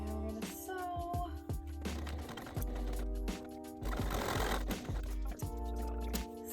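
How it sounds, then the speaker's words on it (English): A sewing machine stitches a fabric waist pack in short bursts of rapid mechanical whirring and clatter, starting and stopping several times, close and fairly quiet. "And we're gonna sew."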